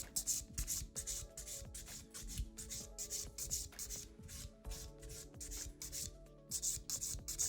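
An acrylic nail is filed with a nail file in quick, rhythmic rasping strokes, close and crisp, with steady repeated scratches and no talking.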